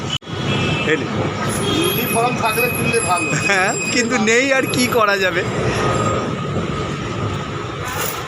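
Kolkata heritage tram on the move, a steady rumble of wheels and carriage running under close conversation throughout.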